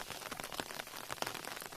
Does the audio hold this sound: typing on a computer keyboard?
no